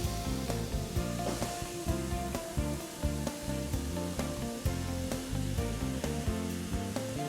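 Cannellini beans hit a hot pan for a cassoulet-style bean stew and sizzle steadily, a bright, continuous frying hiss under a rhythmic musical backing.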